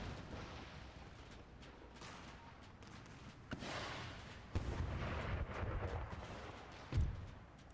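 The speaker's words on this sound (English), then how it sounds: "Cannon fire coming in at the most appropriate of times." Cannon volleys from an Empire: Total War battle boom at a distance, a few heavy blasts rolling out irregularly with rumbling decay, the loudest near the end, no voices over them.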